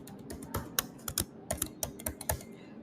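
A computer keyboard clatters as a password is typed for a Firebase account sign-up: roughly fifteen quick, close keystrokes in an uneven rhythm, with no talking.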